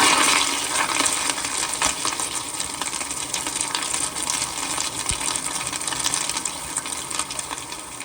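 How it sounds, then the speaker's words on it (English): A 2007 Kohler Wellcome toilet flushes up close, a steady loud rush and gush of water with hissing swirl lasting several seconds, no talking. "But here is more of a close-up flush."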